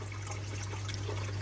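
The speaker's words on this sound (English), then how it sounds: "we don't want the water going faster than it needs to" Water trickles steadily out of reef aquarium plumbing, a continuous soft wash of splashing over a low constant hum, with no voices.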